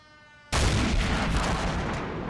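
Gunfire and cannon fire in a World War II naval beach-assault video game: after a half-second of quiet, an abrupt loud burst of rapid shooting and booming explodes and rolls on continuously to the end.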